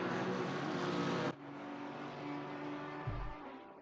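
Race cars on track in Assetto Corsa Competizione at Zolder, a loud engine roar that cuts abruptly to a softer, steady drone, with a brief low thump near the end, with no talking.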